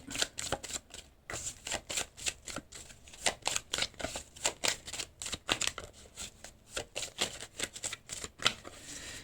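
Tarot cards are shuffled by hand in rapid bursts of papery riffling and flicking, soft, close and continuous, with brief pauses between runs of snaps.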